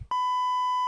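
A single loud, pure electronic beep used as a TV show sound effect, starting abruptly after a brief low thump and holding steady for nearly a second.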